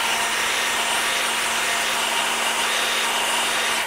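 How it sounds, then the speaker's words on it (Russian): A hair dryer on its first speed warms the glass of a car side mirror, a steady close whooshing blower hum that cuts off abruptly at the end. "Чувствуете, что не хватает разогрева, значит необходимо опять включать фен и подогревать."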